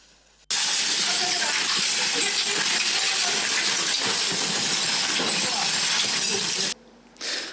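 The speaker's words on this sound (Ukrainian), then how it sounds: "Там із самого ранку працівники прибирають гори битого скла та потрощені меблі" Workers clear heaps of broken glass in a missile-damaged hotel, a loud, continuous crunching and scraping of shards that starts abruptly, holds steady for about six seconds, then stops.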